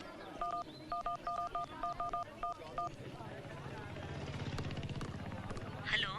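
A quick run of about ten phone keypad tones beeps in an even rhythm, then gives way to a low, rumbling engine-like drone.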